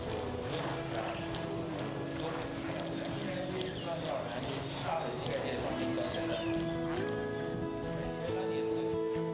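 A horse walks beneath a 19-year-old novice rider, its hooves clip-clopping steadily under continuous narration.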